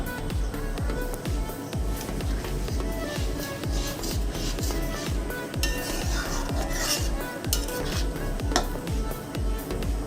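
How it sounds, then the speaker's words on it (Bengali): Hot water goes into a pot of boiling Dhaba-style egg tarka, bringing steady bubbling and sizzling with a spoon scraping and clinking against the pot in a regular stirring rhythm, close and moderately loud. "এবার আমি এখানে খুব অল্প পরিমাণে গরম জল দিয়ে দিচ্ছি।"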